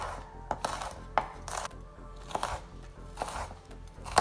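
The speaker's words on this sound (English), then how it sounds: "I'm gonna line them up and just give them a quick chop" A knife chops strips of hot peppers on a board in a home kitchen, a series of light, quick, irregular cuts, close and fairly quiet with no talking.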